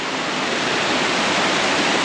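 Vasudhara Falls near Badrinath, a waterfall on a rocky mountain trail, heard as a steady, loud, close broadband rush of falling water with no voices.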